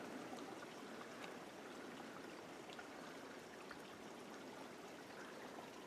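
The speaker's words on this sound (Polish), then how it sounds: "A, taki strumyczek." A small stream flows on a trail in Fiordland National Park, New Zealand, a soft, steady burble and trickle heard from close by, faint and continuous.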